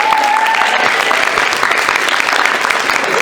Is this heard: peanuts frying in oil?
no